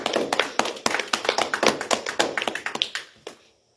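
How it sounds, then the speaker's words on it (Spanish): Scattered applause from a small church audience after a hymn, a few dozen loose, uneven claps that thin out and stop after about three and a half seconds, with no talking. "Aplauso"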